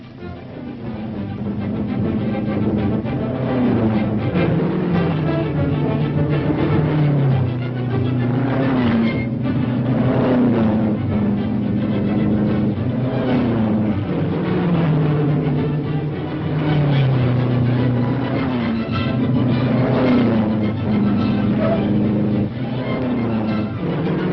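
Race car engines roar steadily during a motor race, a continuous loud drone with rising and falling pitch as cars pass, in an old 1941 film soundtrack.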